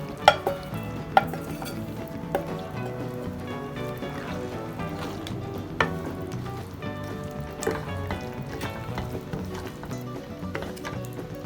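Boiled kidney beans go into a pot of chilli con carne and are stirred through, soft sizzling and wet scraping with a few sharp utensil knocks against the pot, quiet and without speech.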